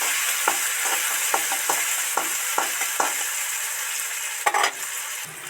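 Chopped onions with salt stirring and frying in a pan, a constant hiss of sizzling broken by regular soft scrapes of a spatula and a louder clatter near the end.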